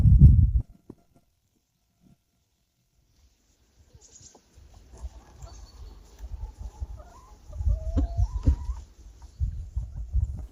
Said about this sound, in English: Sometimes I let the chickens out to run around.